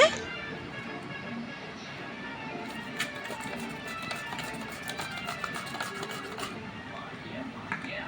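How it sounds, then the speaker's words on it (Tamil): Vegetable slicer cutting a potato, a steady scraping and rasping with rapid light clicks and taps close by. Talking runs faintly underneath. "இதுலேயே நம்ம வந்து பொட்டேட்டோவை வந்து ஸ்லைஸ் பண்ணி பார்த்துருவோம் எப்படி வருதுன்னு"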